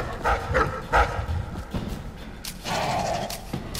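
Dogs barking in the stealth video game Dishonored, with several loud, close barks at the start and scattered further barks and whimpers under a busy in-game background.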